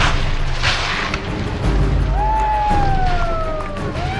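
Loud booming blasts and rumbling explosions from practical effects filmed for Furious 7, mixed with rushing noise and a whining tone, like a chaotic action scene with no voices.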